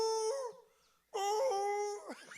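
A person mimics dogs whimpering and howling in reaction to piano playing at a live show, giving two drawn-out, wavering whiny tones separated by a short pause, close and fairly loud.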